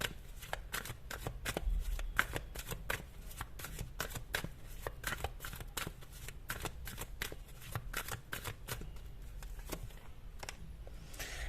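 Tarot cards are shuffled over and over at a table, a close run of rapid crisp riffles and flicks repeating rhythmically and evenly throughout.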